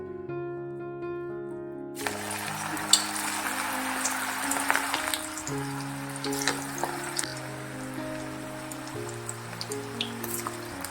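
Coriander bhaji batter dropped into hot oil in a kadhai, setting off a continuous bubbling sizzle with scattered pops under a steady background melody, no voices.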